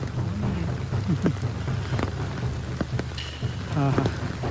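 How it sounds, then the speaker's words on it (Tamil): Rain falling during a mountain trek between Kumbakarai and Vellagavi, a steady hiss of rain close by with low rumbles and scattered brief sounds through it. "இதெல்லாம் மழை பழகிருக்கோம்"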